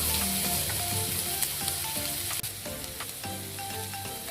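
Onions fry in a pan with salt, a dense steady sizzle with occasional scraping stirs, close and continuous with no voices.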